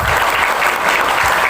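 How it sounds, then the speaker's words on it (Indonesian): Students at an Islamic boarding school clap together, producing a brief, loud, dense burst of applause with no voices. "Tepuk tangan semuanya"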